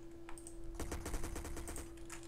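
Gunfire in the video game SA-MP, a quick automatic burst of about ten evenly spaced shots following a single earlier shot, moderately loud over a steady background hum, with no talking.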